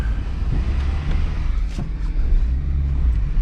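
A Tornado Red Volkswagen MK2 Jetta pulls away, heard as a steady low engine drone with road rumble and wind noise from inside the car.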